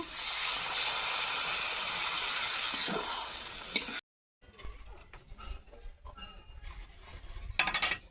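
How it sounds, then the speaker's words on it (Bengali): Fried potatoes and water added to spice paste in a pan for a puti fish posto dish: a loud hissing sizzle that fades, a brief cut, then clinking stirring and bubbling, with sharper clinks at the end. "ভেজে রাখা আলু দিয়ে দেবো জল দিয়ে দেবো"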